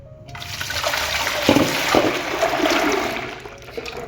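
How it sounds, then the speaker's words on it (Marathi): Water pours steadily from one large cooking pot into a second big pot, a loud continuous gushing splash that swells and fades over a few seconds, close by with no talk. "याच्यात मी आता ओतून घेणार आहे"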